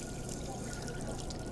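In the Job Simulator VR game, water pours steadily into a soup pot as a continuous hissing splash. It is close and even throughout, with no talk over it.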